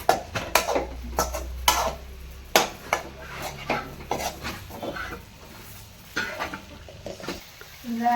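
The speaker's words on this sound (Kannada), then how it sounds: "ಫಸ್ಟ್ ಇದನ್ನು ಫ್ರೈ ಮಾಡ್ಕೊಳ್ಬೇಕು, ಕ್ಲೀನಾಗಿ ಮಿಕ್ಸ್ ಮಾಡ್ಕೊಬೇಕು ಫ್ರೈಯಲ್ಲಿ" Broccoli, mushroom and paneer are stir-fried in a pan with a soft sizzle beneath repeated clanking and scraping of a metal spoon against the pan, irregular knocks close by and no talk.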